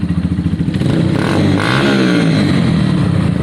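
A Honda CBF 125 motorcycle engine idling loudly at its first start-up, a close, steady throbbing chug with a slight rise in revs partway through.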